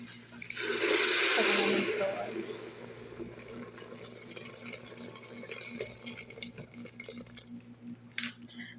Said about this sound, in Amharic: የሞቀ ውሃ አድርገን